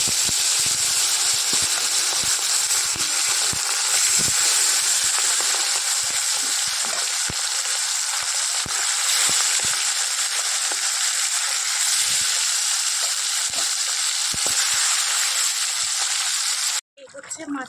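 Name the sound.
fish frying in hot oil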